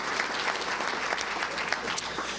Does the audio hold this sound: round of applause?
yes